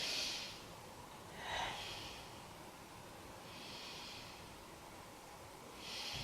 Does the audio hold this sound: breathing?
yes